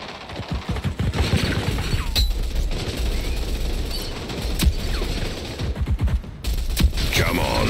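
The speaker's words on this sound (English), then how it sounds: "I should just turn around and shoot him." Gunfire in the Rogue Company shooter game: bursts of rapid shots crackle through a dense mix of in-game clatter and impacts, loud and close, with sharper single reports near the middle and end.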